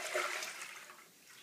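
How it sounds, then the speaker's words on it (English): A sponge rinsed in a bucket of clean water while installing DuraCeramic tile, a close sloshing and splashing swirl that gradually fades. "Rinse my sponge out really good."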